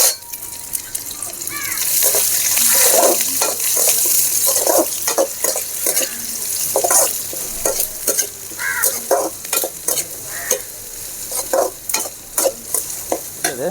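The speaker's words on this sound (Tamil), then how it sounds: "வெங்காயத்தை இதில் நல்லா வதக்கிக்கணும்" Onions and curry leaves sauté in a hot pan with a steady sizzle, broken by frequent scraping and clinking strokes of a stirring spoon, close and fairly loud.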